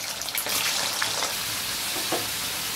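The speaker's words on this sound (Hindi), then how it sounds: "चिकन को मैं ऑयल में अच्छी तरीके से भून लूँगी।" Chicken sizzling steadily in hot oil with whole garam masala for a Lucknowi chicken korma, a dense, close crackle with a few louder pops, no voices.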